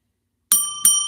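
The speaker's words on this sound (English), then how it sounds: "It was the little bike bell." A small bicycle bell rings twice in quick succession, bright metallic dings with a lingering ring after each strike, clear and close after a brief silence.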